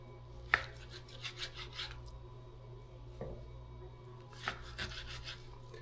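A knife slicing meat into small pieces for cochinita pibil, heard as quiet, sparse cutting and scraping strokes on a board with a low background hum and no talking.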